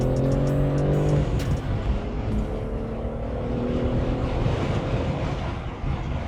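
A BMW G80 M3 with a manual gearbox on a warm-up lap, its engine droning steadily with rising and falling tonal notes, loud and continuous with road and tyre noise throughout, no talking.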